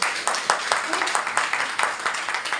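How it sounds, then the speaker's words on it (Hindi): Audience members at a weekly training session clap together in a steady rhythm, a brief burst of close, even applause. "तालियां बजाओ।"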